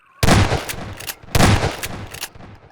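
Two bursts of weapon fire in the VR video game Half-Life 2, each a loud close blast followed by quieter rattling shots and mechanical clicks, with no talking.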